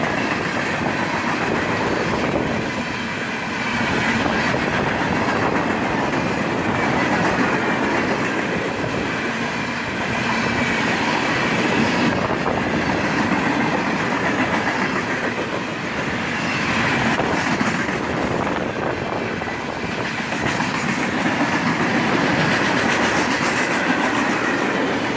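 Empty freight cars run fast over the rails in a loud, continuous rush of wheel noise and clickety-clack that stays close and steady throughout, with no voices.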